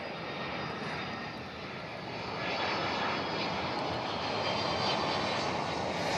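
Boeing 767 jet arriving at Miami airport, a broad steady engine roar that swells slightly as the plane nears, heard from a distance with no talk.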